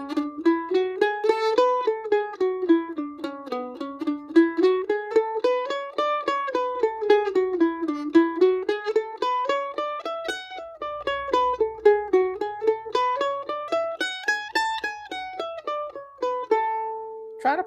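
A mandolin plays a pinky exercise, picking intervals one note after another while alternating direction, in an even, quick stream of bright plucked notes that climb and fall in repeated waves before ending on a held note.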